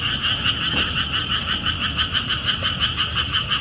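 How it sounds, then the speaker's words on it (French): Frogs croaking at night, a dense rhythmic chorus of rapid pulsing calls repeating steadily without pause, loud and close, with no talking. "On entend les grenouilles."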